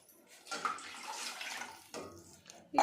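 A glass of water is poured into a pot of upma, giving a splashing, gurgling rush that lasts about a second and a half, then a brief pause before another short splash.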